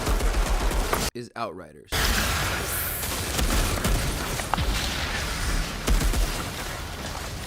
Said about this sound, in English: That's an uncommon automatic shotgun.